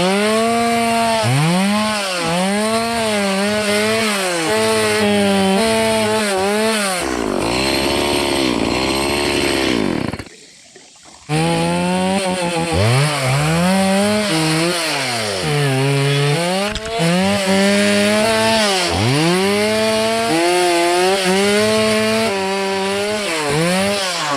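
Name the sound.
chainsaw cutting a tree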